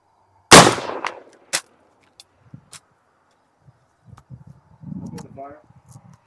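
An Enfield Civil War rifle musket fires a single loud, sharp report at close range, followed by a short echoing decay; quieter handling sounds and people talking follow.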